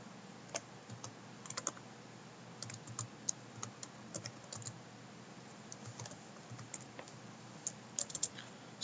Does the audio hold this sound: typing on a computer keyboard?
yes